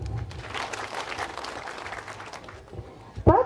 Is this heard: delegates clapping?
yes